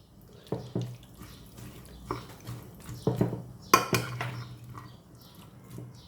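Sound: stirring vegetables and chicken with butter in a dish

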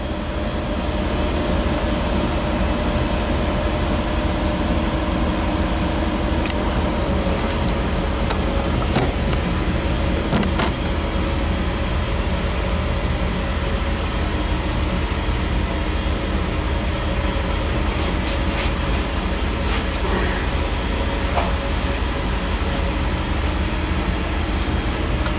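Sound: passenger train moving

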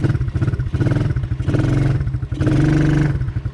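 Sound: Forte Orix Hunter Scrambler children's quad bike engine pulling away

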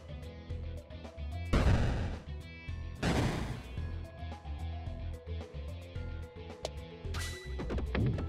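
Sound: bomb exploding in the video game Peglin

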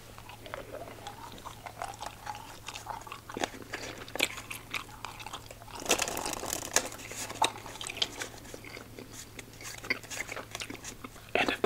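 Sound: chewing strawberry daiquiri ice cubes gum

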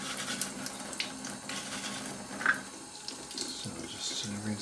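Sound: tap water rinsing a model locomotive shell

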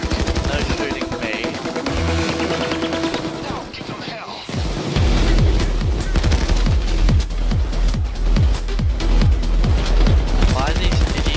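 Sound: gunfire in the video game Payday

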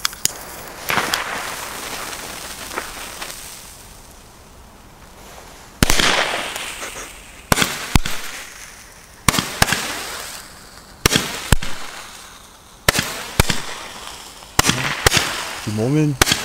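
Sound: Nico 20-shot red-green Roman candle fireworks

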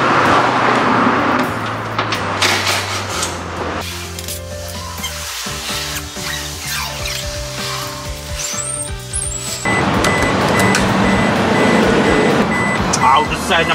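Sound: vehicle reversing beeps

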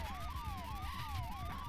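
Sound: police siren in a video game

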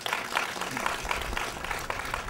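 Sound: applause

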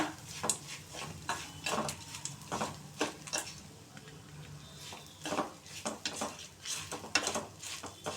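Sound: dry-roasting ingredients with salt in a pan

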